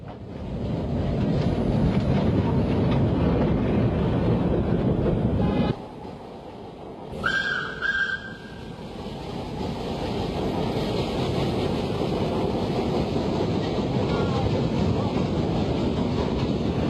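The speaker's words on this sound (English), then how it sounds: "the tram chuffed importantly by" A steam tram rumbles past heavily for several seconds, then a brief high whistle-like squeal, then a steady rolling rumble resumes with wind noise.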